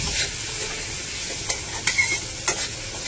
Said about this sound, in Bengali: তারপর দিব মরিচের গুঁড়ো দিয়ে ভালোভাবে কষিয়ে নেব।